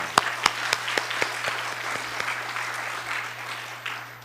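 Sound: church congregation applauding

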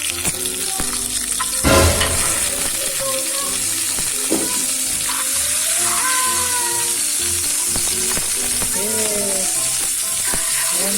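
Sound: butter melting and sizzling in a frying pan

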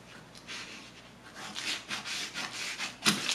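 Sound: cutting a paper sewing pattern

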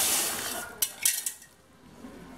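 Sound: caustic soda being poured into a bucket of warm water

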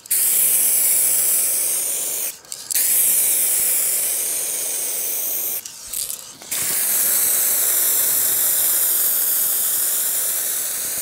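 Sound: spray can painting a Honda Civic Ferio bonnet

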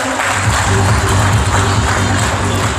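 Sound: applause

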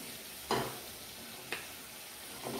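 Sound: potatoes frying in oil

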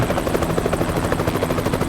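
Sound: helicopter flying overhead in Euro Truck Simulator 2 video game

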